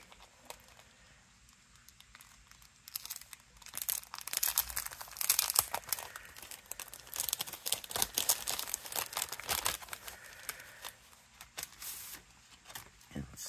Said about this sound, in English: And now I'm gonna die cut.